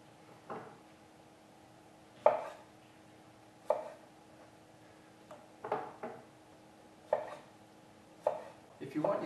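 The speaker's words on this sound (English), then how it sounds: "So it's just a matter of cutting up some cherry tomatoes." Knife cutting cherry tomatoes on a board for a raw kelp noodle tom yum soup, a series of separate soft chops at a slow, uneven pace, close and fairly quiet.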